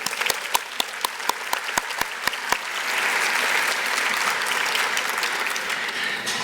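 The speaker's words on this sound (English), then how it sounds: "a brief round of applause for our entertainment, Flutopia" Audience applause at a community foundation's annual meeting, honoring the flute entertainment group: a few sharp, distinct claps first, then a full, steady round from the crowd that carries on without pause.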